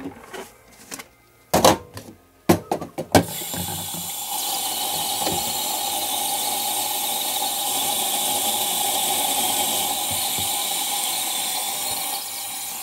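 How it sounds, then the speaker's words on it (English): Water runs steadily into a tank to wash developed Ilford Pan F 50 Plus film, a continuous hiss that follows a few sharp clicks and knocks of handling at the start. "Right, let's now give this film a wash."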